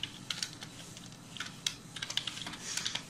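Quick, light typing of code on a computer keyboard: scattered close key clicks in uneven bursts over a faint background hiss, with no voices.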